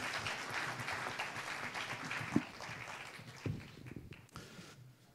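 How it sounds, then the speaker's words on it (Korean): An audience applauds at the 2023 international symposium of the Korean certified labor attorneys' association, a faint, steady wash of clapping that runs through the clip with a few sharper claps standing out. "큰 박수 부탁드리겠습니다."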